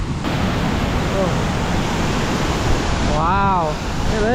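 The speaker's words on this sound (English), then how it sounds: "we're just gonna go check it out and see the beautiful Thakhek Loop waterfall" Powerful waterfall on the Thakhek Loop in Laos during the wet season, a loud continuous roaring rush of water with brief voices cutting through the spray noise.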